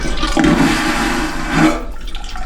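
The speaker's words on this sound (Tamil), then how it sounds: "வேக்யூம் டாய்லெட் அதாவது எதுக்குன்னா கப்பலில் தண்ணியை மிச்சப்படுத்துறதுக்காக இந்த வேக்யூம் டாய்லெட் தான் அதிகபட்சம் யூஸ் பண்ணுவாங்க" A vacuum toilet aboard a ship flushes in a loud, close whoosh of rushing air and water lasting about a second and a half, then cuts off into quiet.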